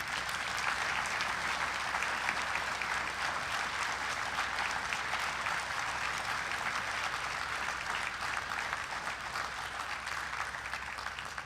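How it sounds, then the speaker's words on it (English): Guests at a military veterans banquet applaud the founder of a Hall of Fame, a full, even roar of clapping from a large room that holds steady throughout. "a round of applause for starting the Hall of Fame."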